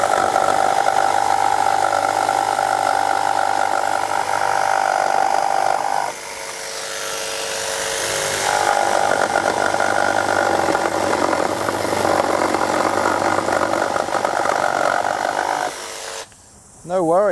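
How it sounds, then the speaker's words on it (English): A Milwaukee M12 Fuel cordless jigsaw saws through 70 mm thick timber, a loud, steady buzzing drone that dips briefly partway through and stops near the end. "So, can it do 70 millimeters like they state?"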